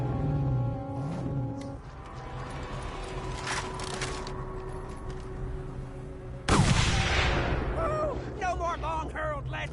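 Gunfire in the Mad Max video game, scattered shots and impacts within a noisy wasteland scene, a sharp louder burst partway through, with a voice talking over the action.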